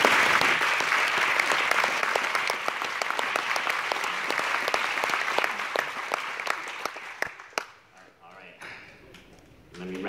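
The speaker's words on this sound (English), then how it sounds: "I feel that they deserve your applause." An audience applauds teachers with a steady, dense crowd clapping that carries on for several seconds before fading, after which a speaker's voice returns.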